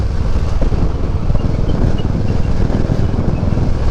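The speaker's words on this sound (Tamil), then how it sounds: "பயங்கரமாக காற்றடிக்கும்." Strong wind roars through a mountain gap, a loud, steady, broadband rush buffeting the microphone without pause.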